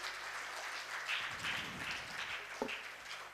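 Faint, distant audience applause for a student at a temple anniversary celebration in Salem, a soft patter of clapping rising and fading over a few seconds.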